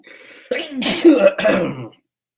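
Sneezing up close, a quick wind-up breath and then two loud sharp sneezes in quick succession, with no talking.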